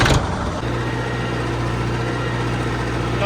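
A tractor pulls a heavy suhaga leveller in first gear at around 1500-1600 rpm, preparing farmland for potatoes. Its engine gives a steady, loud, low drone that holds unchanged after a brief louder opening.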